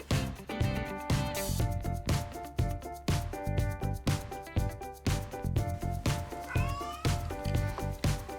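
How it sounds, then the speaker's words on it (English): Snowball, a cat waiting for dinner, meows over and over in a steady rhythm of short, close, loud calls, with a few rising cries near the end. "He's meowing because it's almost dinner time right now"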